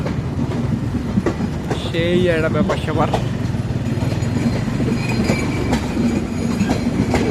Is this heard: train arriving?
yes